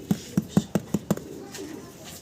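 Two fancy pigeons give a run of six soft, low coos in a steady rhythm, close by and fairly quiet, with a faint murmur after.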